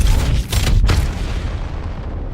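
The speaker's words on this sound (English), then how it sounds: "Being shot at." Gunfire in the Apex video game: a few heavy booming shots in quick succession at the start, then a lingering low rumble fading away.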